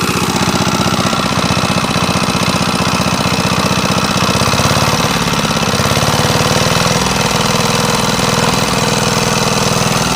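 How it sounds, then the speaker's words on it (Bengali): A shallow tube-well pump engine runs loud and close, with a rapid, steady, knocking clatter that never lets up. "অবশেষে মেশিনটি স্টার্ট হয়ে গেছে"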